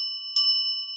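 One shamanic bell is struck once and rings with a clear, sustained metallic tone that fades slowly, alone and up close.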